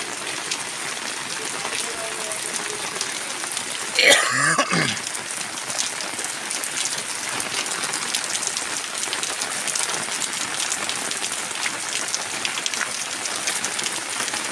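Heavy rain falls steadily over a flooded residential colony, a dense continuous hiss, with one brief cough or throat clearing close by near the start.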